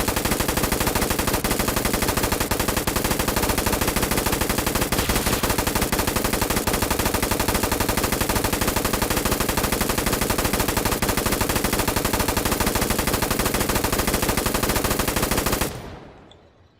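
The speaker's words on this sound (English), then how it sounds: "I'm just going to fire into the air until we get the full reload." A video-game machine gun fires into the air in one long, continuous burst, loud and rapid, with no talking, then cuts off abruptly at the end.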